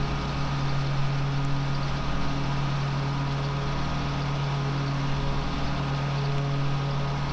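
A John Deere 648R lawn mower engine running steadily while mowing a yard, a constant close drone with a strong low hum and no speech.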